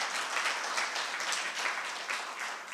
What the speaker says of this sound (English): I'm going to request that we give them a round of applause